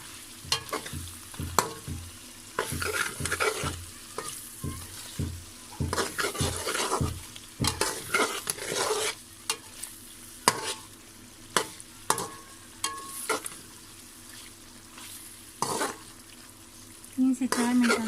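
Black pepper and tomatoes are stir-fried in a Peshawari chicken karahi, with a low sizzle under repeated scraping, clattering spatula strokes against the pan, close and irregular.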